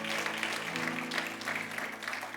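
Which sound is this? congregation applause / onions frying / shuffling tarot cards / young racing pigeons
congregation applause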